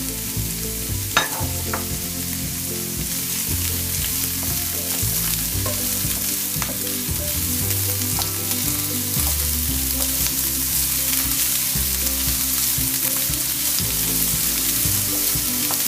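Colored peppers fry in a pan with a loud, steady sizzle and crackle, punctuated by the scrape and clatter of stirring, close up and continuous with no talking.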